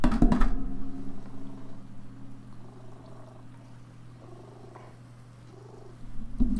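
A cat purrs close up, a soft steady low rumble in rhythmic breaths, framed by louder rustling bumps at the start and end.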